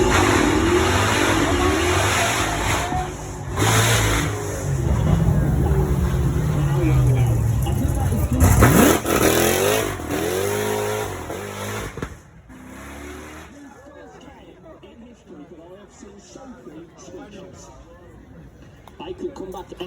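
A V8 sports car, some with 6.2 or 7 litre engines, roars past at a Beaulieu drive-by, the engine note rising then sweeping away, under someone talking; later the road falls quieter.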